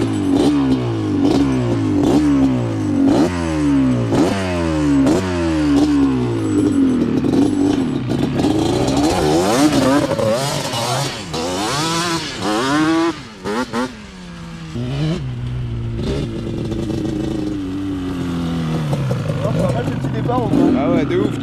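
A Yamaha Banshee 350 quad's two-stroke engine revs hard and loud up close, rising and falling in repeated throttle blips before a sustained high scream, with voices heard briefly over it.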